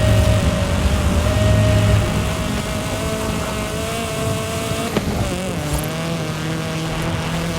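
An Audi RS6 engine drones loud and steady while driving in a racing video game, its pitch shifting as it shifts through the gears over a continuous road noise.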